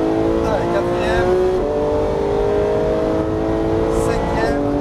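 Close-up, a Porsche GT3 engine pulls hard in fourth gear around a race circuit, its pitch climbing steadily with a brief dip at each shift, while an instructor talks over the roar.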